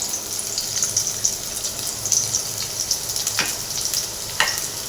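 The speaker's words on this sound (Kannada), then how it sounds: "ಗ್ಯಾಸನ್ನು ಸಿಮ್ಮಲ್ಲೇ ಇಟ್ಕೊಂಡು ಹುರ್ಕೋಬೇಕು ಫ್ರೈ ಮಾಡಬೇಕು" Sliced onions sizzle steadily in hot oil on a low gas flame, a continuous close frying hiss with a couple of brief stirring clinks and no voices.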